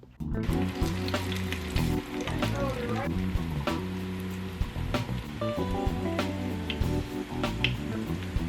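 Spelt-flour-coated cauliflower pieces fry in hot grease, with a steady dense sizzle and crackle running throughout, close and fairly loud, broken by occasional light clatter and stirring.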